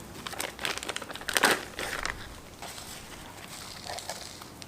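A braided, rubber-coated clutch line for a Hybrid Racing CMC install is pulled from a plastic bag, giving close, crinkly rustling in uneven bursts that peak briefly and then settle into softer rattling.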